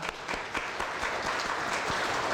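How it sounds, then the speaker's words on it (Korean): Congregation applauding during a dawn prayer service at a Korean church, a dense, even burst of many hands clapping alone with no voices, moderately loud and steady throughout. "우리 하나님께 영광의 박수를 드리겠습니다"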